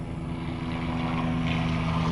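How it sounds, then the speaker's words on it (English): A helicopter flies over Bangkok, heard from a condo rooftop as a steady, fairly loud rotor drone with a low throbbing hum that holds throughout. "Just a helicopter coming."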